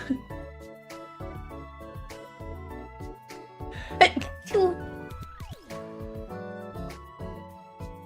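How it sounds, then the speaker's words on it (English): A single sharp sneeze bursts out over background music, followed by a smaller second burst shortly after. "Big sneeze."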